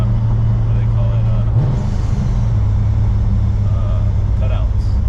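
A Corvette C6 Z06 with a modified exhaust drives with its exhaust valves closed in quiet mode, giving a loud, steady low engine drone and road rumble inside the cabin, with people talking over it.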